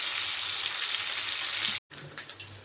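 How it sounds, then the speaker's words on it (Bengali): Potatoes tipped into a pan of oil with onions fried until browned, giving a steady loud sizzle that cuts off briefly, then returns with crackling pops. "ভেজে রাখা আলুটা দিয়ে দিলাম"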